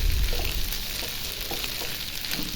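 Pasta frying in butter in a pan fills the whole stretch with a steady, close crackling sizzle and faint stirring scrapes.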